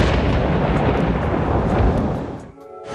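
Deep, continuous rumbling thunder from a thunderstorm that an airliner on final approach is flying into, loud and broadband for about two and a half seconds before dropping off abruptly into a quieter tail.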